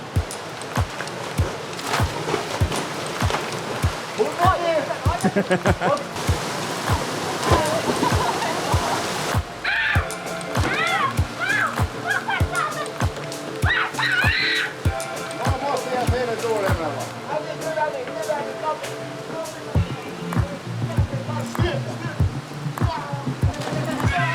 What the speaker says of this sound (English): The kids wanted me to film them jump in the water.